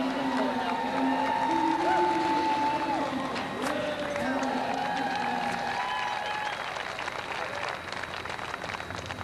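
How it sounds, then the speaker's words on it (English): Crowd at a 2001 strongman contest applauds and cheers for Team Canada, a steady dense wash of clapping with voices calling out over it, loud and sustained and easing slightly toward the end. "Big round of applause for Team Canada."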